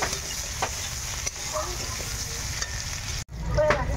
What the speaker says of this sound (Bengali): একটু পেঁয়াজ দিলাম, আর দুটো কাঁচা লঙ্কা। ভালো করে ভেজে নিই।